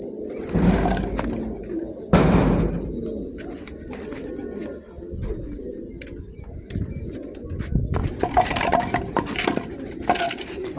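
Pigeons in their coop give low, soft cooing calls amid rustling and scuffling, with a few louder bursts of movement and some bird chatter near the end.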